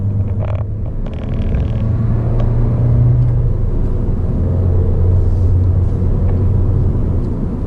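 A 2019 Toyota Corolla Hatchback with a 6-speed manual gearbox pulls hard, its engine holding a loud, steady low rumble and drone throughout, with no speech.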